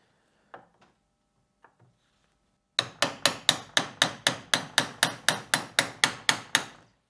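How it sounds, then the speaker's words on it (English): A hammer strikes a plastic electronic parking brake motor housing from a Renault Scenic 3, clamped in a vise: two or three faint taps, then a steady run of about fifteen sharp, evenly spaced blows, loud and close. "I'm coming down into that seam in an attempt to split that seam in the first place"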